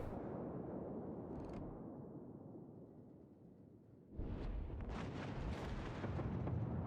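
Heavy broadside of high-explosive shells from a battleship in World of Warships, a sustained rumbling roar that swells suddenly partway through into a louder, denser barrage of booms.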